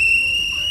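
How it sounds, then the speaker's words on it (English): A single sharp, steady whistle blast sounds loud and close, holding one high pitch for under a second before cutting off. "Take that whistle away from him."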